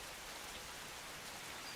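Steady, even rainfall in the medieval colony-building game Norland, a dense continuous hiss of raindrops with no thunder and no voices.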